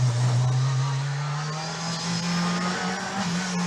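A Group B rally car engine, fitted with both a supercharger and a turbo, holds a loud, deep, steady roar with a slowly rising pitch as it pulls hard, close and unbroken by talk.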